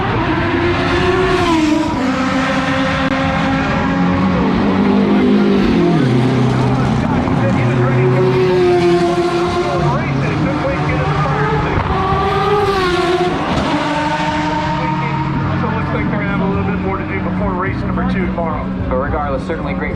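Historic IndyCar race cars racing at the Long Beach Grand Prix, loud engines rising and falling in pitch as they pass and shift, with commentators talking over the top the whole time.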